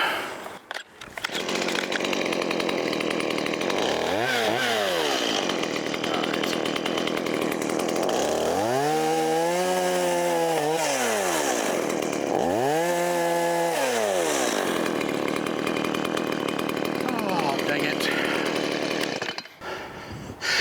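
A chainsaw runs steadily, revving up and down in several rising and falling bursts, loud and close, with no talking.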